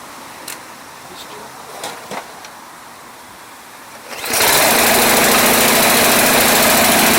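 An Ariens Sno-tek 136cc two-stage snow blower engine is pulled and starts, a few faint knocks and handling sounds giving way to a sudden loud, steady running drone that fills the rest.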